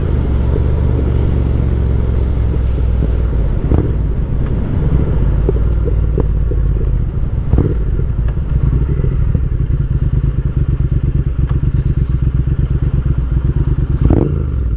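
A 2020 Triumph Speed Twin cruising in sixth gear at about 50 mph, its engine a loud, steady low rumble with wind buffeting and a few thumps throughout, no talk.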